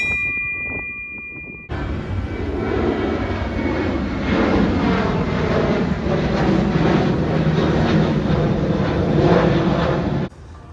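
A large airplane near Narita Airport roars loudly overhead on approach, its engine noise swelling steadily and close, with no talking.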